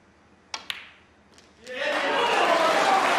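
Snooker cue ball struck in a professional 2025 match between Ronnie O'Sullivan and Judd Trump: two sharp clicks close together, a softer knock, then a swell of crowd applause and cheering that fills the rest.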